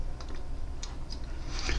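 Mouse clicks on a computer while navigating a private token sale web page, a few light, sharp clicks close up over faint room hiss with no talking.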